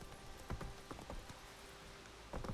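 Horse hooves clip-clop in The Witcher 3 video game: a few uneven, fairly close hoof strikes in loose clusters over a low steady game-ambience hum, with no talking.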